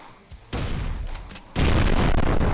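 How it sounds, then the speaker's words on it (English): Loud video game explosions in Blood Waves, a sudden booming blast followed by a second, heavier burst that stays dense and rumbling, with no talk over it. "what sound explosion sample did they use?"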